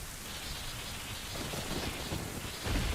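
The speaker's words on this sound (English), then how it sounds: "got rain and lightning" Steady heavy rain pours in the video game Zelda Ocarina of Time, a dense close hiss, with a low thunder rumble swelling near the end.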